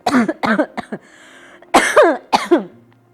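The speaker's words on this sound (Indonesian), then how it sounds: "kayaknya mau batuk" A person coughs repeatedly at close range, a cluster of harsh coughs, a pause, then another burst of throaty coughing.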